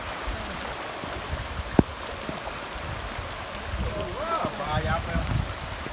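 Steady rain falls beside fast-flowing river water, a dense, continuous wash of noise with a faint click near two seconds and some surging swirls toward the end, with no talk.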